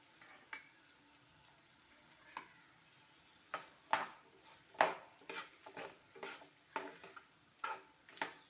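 Small onions sautéing with salt in a pan give off a faint, soft sizzle broken by scattered clinks and scrapes of stirring, the sharpest knocks clustering near the end.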